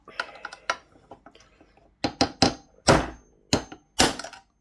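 Several sharp hammer knocks on a metal electrical box knockout, a few light taps followed by a series of harder, spaced strikes.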